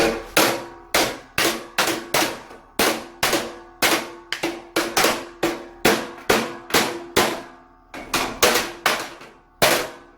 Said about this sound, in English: I should give it a hammer.